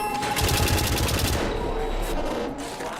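Turrets fire in the video game White Knuckle, a rapid rattling burst of shots that fades into quieter game ambience with a faint tone; a voice talks over part of it.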